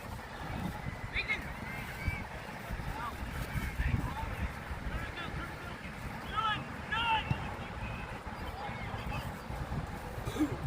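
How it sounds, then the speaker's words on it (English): Strong wind buffeting the microphone with a constant low roar at an outdoor boys' youth soccer match, faint voices talking somewhere underneath. "This is so windy."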